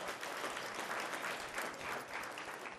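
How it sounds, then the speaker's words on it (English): An awards-ceremony audience at the 2014 CARAH Awards applauds in tribute to Marcus Garvey. The crowd claps fairly faintly but densely and evenly for about three seconds, with no voices over it. "A round of applause for him, in whose spirit we dwell"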